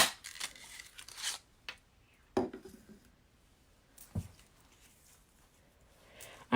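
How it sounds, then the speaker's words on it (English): A 1 1/2 inch paper punch cuts through card stock while making Christmas cards, giving a few sharp, close crunching clicks separated by quiet pauses. "we're gonna be using the 1 1/2 punch and cut it out."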